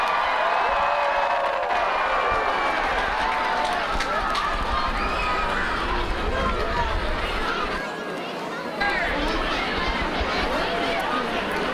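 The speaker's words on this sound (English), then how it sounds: "Let's give him a huge round of applause from this town to his heart." A large outdoor crowd at the 2021 Doylestown Christmas tree lighting cheers and applauds in a steady, dense roar, with chatter and voices mixed throughout.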